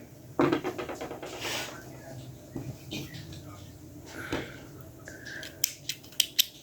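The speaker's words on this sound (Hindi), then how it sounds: "ये इसको यान को हम ज़रा बड़ा काट लेंगे" Scissors snip through crochet yarn while a handmade amigurumi rabbit is finished, a few crisp close cuts standing out among faint rustling handling sounds and a quick run of sharper snips near the end.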